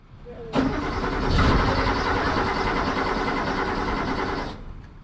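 An air-cooled Porsche Carrera, wet after washing, cranks with a sudden starter whir that runs continuously for about four seconds without firing, close and loud, then stops.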